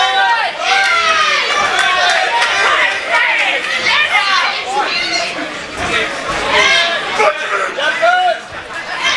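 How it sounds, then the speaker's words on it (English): A crowd at a contender fight roars without letup, a dense wall of loud shouting, yelling and excited voices close by for the whole stretch. "Crowd going crazy for these two."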